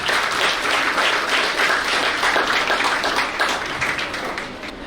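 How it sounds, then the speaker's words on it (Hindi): Audience applause fills a student award ceremony in a hall, a steady, dense clapping from many hands that carries on throughout and eases only slightly near the end. "प्लीज तालियां।"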